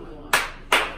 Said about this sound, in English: I'm always clapping at something